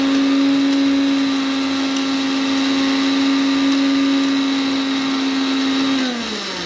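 A mixer grinder whirs steadily at high speed as it grinds coconut, a loud continuous motor whine that holds its pitch and then winds down slightly at the end.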